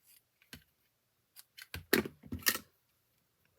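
Scissors snipping a short length of ribbon for a small bow, a few crisp close cuts spaced apart and then a quicker cluster of snips, quiet with no talk.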